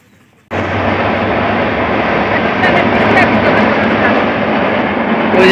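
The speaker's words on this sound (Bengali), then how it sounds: "ওই যে ট্রেন যাইতেছে" A passing train gives a loud, continuous rumbling roar that starts abruptly and holds steady at close range, growing slightly fuller toward the end, near a rural fishing spot in a Bangladeshi village.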